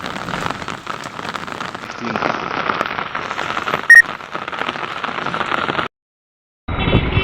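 Rain falling steadily in Jalna, heard as a dense, even hiss of drops on surfaces, fairly loud and close. It runs without a break until a short silent gap near the end, then resumes.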